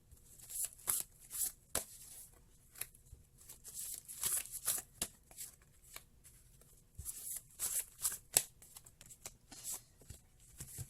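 Tarot cards are shuffled repeatedly, with crisp riffling and flicking bursts in irregular runs, close and fairly quiet, with no talking.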